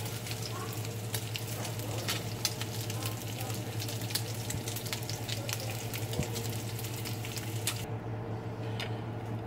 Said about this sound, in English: The bacon is done frying